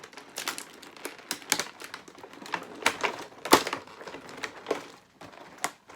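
Plastic clamshell packaging around a 2021 McFarlane Toys modern Spawn action figure is pried and pulled open, giving a quick run of sharp, close crackles and snaps with no talk.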